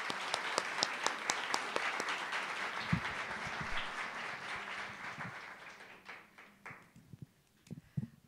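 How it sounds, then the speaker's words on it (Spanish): Audience applause at an academic research conference welcoming a speaker to the stage, a dense sustained burst of clapping from a large crowd that gradually thins and fades out near the end. "Un aplauso para recibirla en principio."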